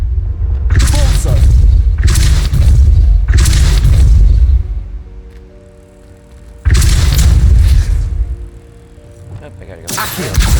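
Booming spell blasts from a Confringo curse in a Harry Potter video game: four or five loud, broadband bursts, each roughly a second long, separated by short quieter gaps.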